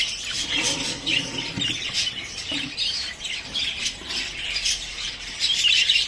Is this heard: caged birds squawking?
yes